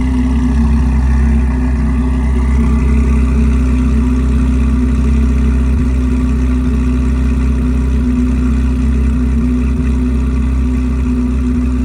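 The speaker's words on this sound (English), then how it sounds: "Alright, so this is what it sounds like at idle." Steady, loud idle of a Corvette C8 Z06 flat-plane V8 fitted with an AWE exhaust, a constant deep droning rumble that holds evenly throughout with no revving and no talk.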